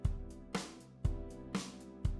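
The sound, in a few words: swung eighth-note hi-hat beat in DAW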